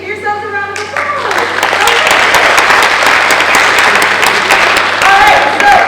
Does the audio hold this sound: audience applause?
yes